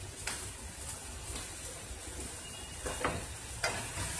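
Macaroni masala with ketchup and soy sauce being stirred in a pan, a quiet soft sizzle with several brief scraping strokes of a spoon at irregular intervals, heard close and alone.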